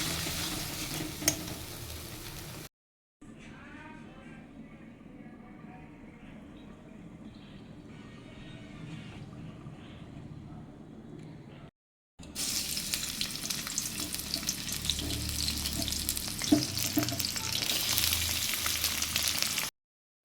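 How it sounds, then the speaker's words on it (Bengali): Spice paste sizzles and spits in hot oil in a wok while a utensil stirs it, a steady loud frying hiss broken by two brief silent cuts, growing harsher near the end. "দেখো মশলাটাকে কষিয়ে নিচ্ছি"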